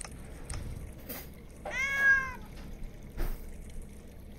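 A kitten gives a single high, wavering meow partway through, fairly close and clear, with faint trickling water and light background noise around it and no talking.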